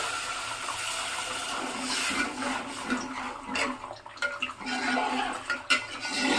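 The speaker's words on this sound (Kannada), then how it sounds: "ಇದು ಇವಾಗ ಕುದೀತಾ ಐತೆ" Water boils in a pot for Maggi noodles, a soft continuous bubbling and hissing at close range with small irregular pops and swells, with no voices.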